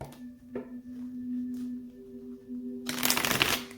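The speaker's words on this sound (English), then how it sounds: "3 shuffles for Taurus" Tarot cards are shuffled by hand, a soft riffle early on and then a loud, dense burst of flicking card noise near the end, over a faint steady hum.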